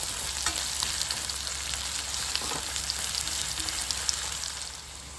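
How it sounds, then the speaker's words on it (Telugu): Onions with a spoon of ginger garlic paste fry in a pan for an Andhra-style prawn fry, giving a steady, dense sizzle with occasional stirring scrapes, close and continuous with no talking. "ఇప్పుడు మనం 1 స్పూన్ అల్లం వెల్లుల్లి పేస్ట్ వేసుకోవాలి. ఇది పచ్చివాసన పోయే వరకు ఫ్రై చేసుకోవాలి."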